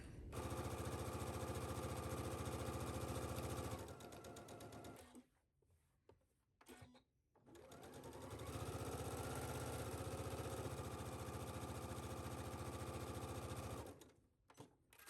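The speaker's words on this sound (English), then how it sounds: "I'm actually going to do a stitch along the straight edge and down across the bottom" A sewing machine hums steadily as it stitches along the straight edge of a wrap skirt, close and continuous, pausing briefly midway before running again for a long stretch.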